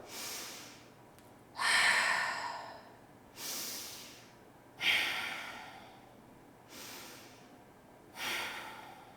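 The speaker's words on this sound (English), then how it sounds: "we'll do our victorious breath. Ujjayi breathing" Slow ujjayi yoga breathing, practised in warrior 2 pose: five long hissy breaths, each with a sharp rise and a slow fade, spaced about two seconds apart and heard close and clear with no talk.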